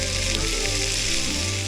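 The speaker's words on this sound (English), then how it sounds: "we're gonna cut up some of this ham. Listen to that sizzle" Steady, close sizzling of ham frying in a hot pan, a continuous crackling hiss with no voices.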